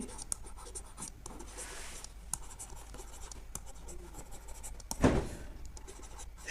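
Chalk or marker scratching across a board while a maths problem is written out, steady short strokes and taps continuing for several seconds with one louder scrape near the end, close and alone.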